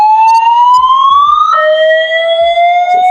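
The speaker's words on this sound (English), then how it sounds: "It's a fire alarm." A loud electronic alarm tone rises steadily in pitch, then steps up and holds, with a few faint low thumps underneath.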